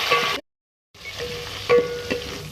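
Tomatoes sizzling and frying in hot oil in a pan while a Nawabi chicken dish is cooked, a steady close sizzle broken by a short silence and a few sharp crackles.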